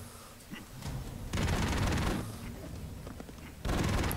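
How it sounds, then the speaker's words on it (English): Twin Uzi machine guns firing in the video game Broforce, bursts of rapid gunfire in two main sustained volleys with a brief lull between, fairly loud with no talk over them. "Of course he has machine guns. Two Uzis."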